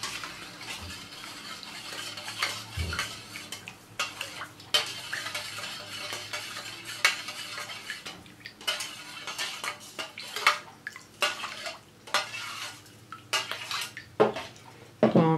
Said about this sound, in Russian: Я беру 80 грамм соли. Растворяю в кипяченой воде.